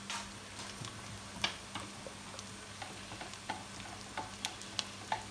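Chicken curry sizzling in a frying pan while a utensil stirs it, a quiet hiss of frying under irregular light scrapes and taps of the spoon against the pan.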